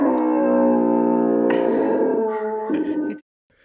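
Dogs howl loudly and close together in a long, sustained chorus, pitches wavering and overlapping, before the howls break off abruptly into silence.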